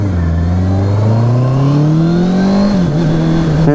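A 2023 Honda CBR650R sport bike accelerates hard, its loud, close engine note climbing steadily in pitch, dipping briefly as it shifts up, then pulling on again, with no talking.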